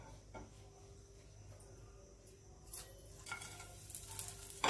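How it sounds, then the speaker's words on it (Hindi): Whole spices sizzle in hot oil in a pan, a soft, steady crackle with faint stirring that grows louder toward the end, close by and with no voices over it. "तेल गरम हो जाने के बाद इसमें हम खड़े मसाले डालेंगे।"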